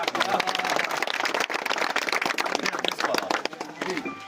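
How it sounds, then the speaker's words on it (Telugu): A crowd at a birthday gathering claps steadily, dense applause throughout with voices talking over it. "క్లాప్స్ కొట్టండబ్బా"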